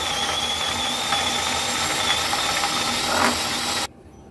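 A hand crusher grinds dried Bombay duck fish with a continuous rasping, whirring mechanical churn and faint ratcheting clicks, close and loud, stopping abruptly just before the end with no speech.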